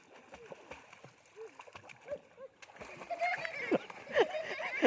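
Water splashes from someone swimming outdoors, with light sloshing that grows into louder, busier splashing, while people talk over it.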